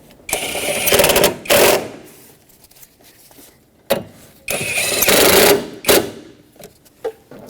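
Power tool tightening the bolts on the air filter housing bracket of a 2006-2010 Hyundai Sonata 2.4L: two loud, close buzzing whirring bursts of about a second each, separated by short clicks and pauses.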